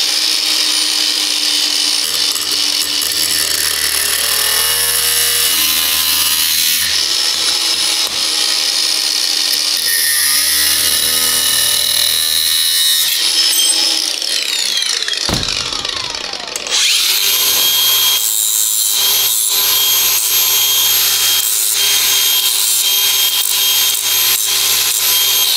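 Loud, grinding power-tool cutting through sheet metal on an Abarth car, continuous with brief pauses and a harsh high-pitched screech, close by.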